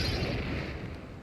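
Cannon fire in the video game Bravely Second booms as a dense, continuous low rumble, steady and fairly faint, with no voices over it.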